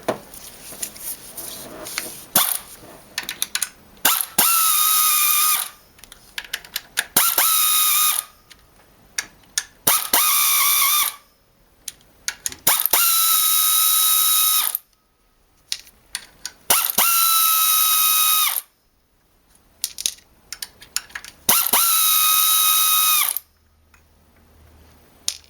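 A pneumatic air tool removes sprockets from a BMW E36 engine, firing in loud, close whirring bursts of a few seconds each with short gaps, alongside brief metallic clicks and clanks.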